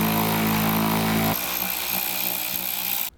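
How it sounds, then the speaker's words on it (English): A loud, steady power tool whines under a Toyota Tacoma while removing 10mm bolts, its high drone shifting tone partway through, then cutting off abruptly at the end. "we're going to work below the truck and remove the rest of the 10mm bolts"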